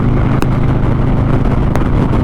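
A belt-driven Harley-Davidson Crossbones rides on the interstate at about 65 mph, a loud constant rumble of engine and wind roar with a couple of faint clicks.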